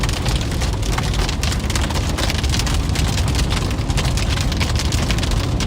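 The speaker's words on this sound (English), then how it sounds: "Oh my gosh, the hail on this" Hail pounds a storm chasers' vehicle during a severe tornado-producing storm on the Nebraska–Iowa plains, a loud, dense and continuous drumming clatter of close, rapid impacts with no talking.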